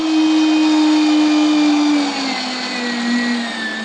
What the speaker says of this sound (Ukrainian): Нарізане сало відправляє до м'ясорубки.